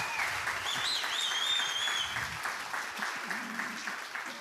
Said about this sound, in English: Y'all give a round of applause for Joel Salatin.